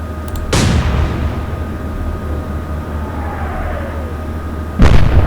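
Naval ship guns fire in the Atlantic Fleet war game: two heavy, booming shots about four seconds apart over a steady low rumble of engines and sea.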